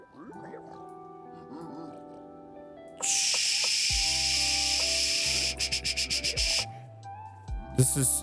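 A voice imitates hissing steam with a long, loud, breathy hiss that breaks into short pulsing bursts, framed by talking and a game's background music before and after.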